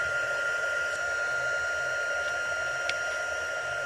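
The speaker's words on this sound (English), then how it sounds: "Right, so the heat tool has 2 settings." A heat tool for embossing runs steadily, a constant airy blower hum with a thin tonal whine that stays level throughout, with no talking.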